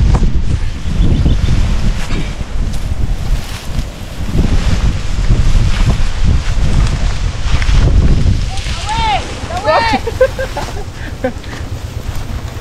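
Strong wind gusts loudly outdoors on a seaside fishing outing, buffeting the microphone in heavy rushing waves, with people talking over it and a few high whistling calls near the end.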